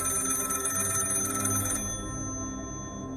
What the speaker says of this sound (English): at that moment, the phone rings